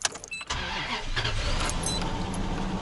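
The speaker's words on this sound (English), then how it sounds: "first I'm going to run it with the heater off to ensure that it can reach optimal temperature more quickly" A cold Toyota Century engine cranks briefly and catches, then settles into a steady, close idle with a faint whine on top.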